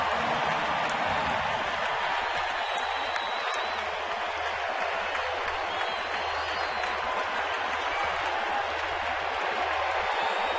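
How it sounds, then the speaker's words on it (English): A baseball stadium crowd in Arlington, Texas cheers and applauds during a playoff game, a dense, steady roar of clapping and shouting that holds at full level throughout. "this Arlington, Texas crowd is back alive again"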